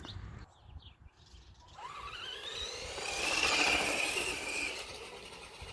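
A Tamiya Blackfoot RC car makes full-lock turns at full throttle outdoors: after some rattling, its electric motor whine climbs and holds loud and strained for several seconds before easing slightly.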